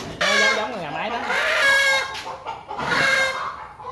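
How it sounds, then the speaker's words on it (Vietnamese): Chickens on a farm, one rooster kept with three hens, give loud, close clucks and squawking calls in quick succession, with a brief pause before a final cluck. "Một con trống mà cai quản ba con mái."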